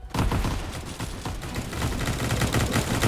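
Dense, continuous volleys of video-game gunfire as soldiers shoot at zombies in a resistance tycoon game, loud and overlapping rapid shots with no gaps for the full stretch.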